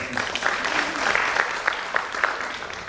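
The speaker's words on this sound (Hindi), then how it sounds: "जोरदार तालियां" A talk-show studio audience claps loudly, with a few sharper individual claps popping out of the steady applause throughout.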